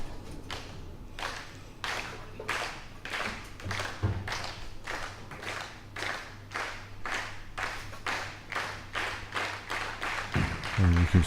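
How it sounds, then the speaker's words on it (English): An audience claps steadily through a professional ten-pin bowling doubles final, the QubicaAMF Bowling World Cup in 2015, with a sustained run of close applause that swells slightly toward the end. "you can see everybody applauding behind the American and the Russian"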